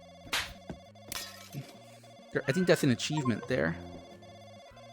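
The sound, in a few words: telephone ringing in the VR video game Slappy Board VR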